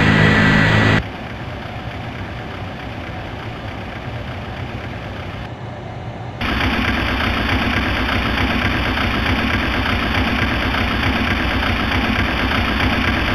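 Airliner engines start in Flight Simulator X at Princess Juliana International Airport, a steady broadband roar that steps up louder midway as another engine joins, with no talking.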